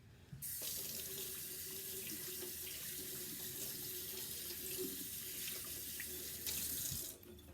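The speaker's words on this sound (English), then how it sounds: "Let me rinse my hands quick." Hands rinsed under a running tap in a sink after fabric dyeing, a steady loud rush of water that starts abruptly, holds level for about six seconds, then cuts off.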